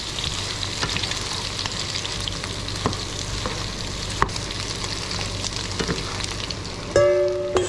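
Meat fries in a greasy pan with a continuous close crackling sizzle, dotted with light scraping and stirring clicks, then a brief louder tonal clatter near the end.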